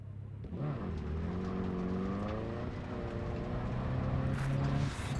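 A car engine in a video game hums steadily with rising and falling pitch as it drives, loud and continuous, with a brief louder burst near the end.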